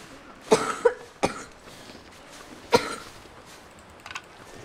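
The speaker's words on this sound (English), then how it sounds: "Trying to avoid my cough going right in the microphone so it's not super loud." Several muffled coughs from a player turned away from the microphone: two close together, a third soon after and another a little later, over a quiet background with faint clicks near the end.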